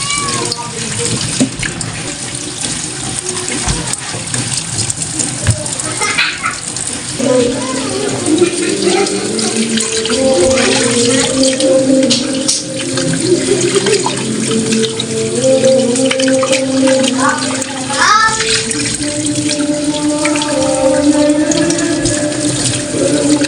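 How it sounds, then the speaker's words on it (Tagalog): Milkfish being washed under a running kitchen tap, a loud steady gush of water with splashing and handling noises, joined by a person talking over it. "Hugasan muna natin yung ating nabiling bangus"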